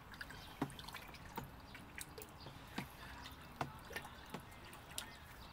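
Lye being stirred into water in a tank for cleaning cast iron, heard as faint, sparse drips and small splashes at irregular intervals over quiet background.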